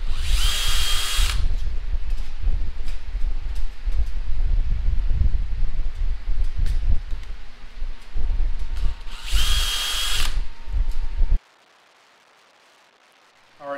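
Power drill countersinking holes in aluminum aircraft skin for a Van's RV-10 elevator, with steady whirring grinding bursts across several seconds, two sharp louder high-pitched spells, then sudden near-silence at the end.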